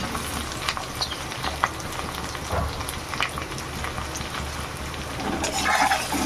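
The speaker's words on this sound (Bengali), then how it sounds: "পেঁয়াজ রসুনটাকে একটু ভেজে নেবো প্রথমে" Chopped onion and garlic fry in hot oil, giving a dense, even sizzle like light rain, close and steady, with occasional spatula scrapes and a slight swell near the end; no voices.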